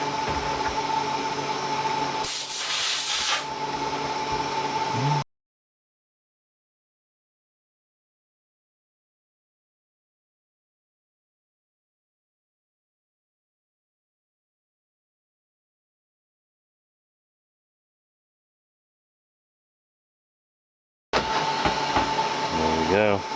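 A milling machine fitted with an oversize cutter and a sleeve adapter cuts metal in a shop with a loud, steady mechanical whir. It runs for about five seconds, falls fully silent, then starts again near the end.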